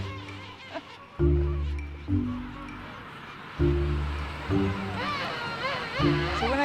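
A dense, noisy chorus of many animals calling over one another in a colony in South Georgia or the Falklands, with loud honking bursts repeating every second or so and higher squawks throughout.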